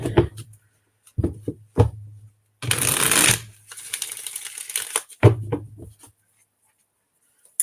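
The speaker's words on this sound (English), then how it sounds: "we'll get a couple shuffles in here." Playing cards are riffle-shuffled up close in several quick, crisp bursts, separated by short pauses and softer handling sounds.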